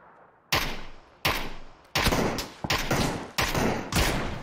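Gunfire in the PUBG battle royale game: five or six loud, sharp bursts of automatic fire spaced about a second apart, each decaying into a brief tail, with no talk over them.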